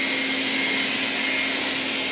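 A Xiaomi Mi Robot Vacuum Mop 1C running at high suction, a loud steady whirring drone with a constant hum, close by and uninterrupted, no voices.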